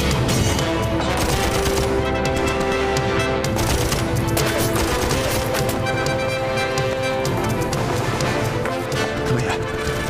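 Gunfire in a Chinese war-era TV drama: rapid volleys of shots crackle through a dense, busy soundtrack, with hoof-like clatter and movement mixed in, loud and sustained for about ten seconds.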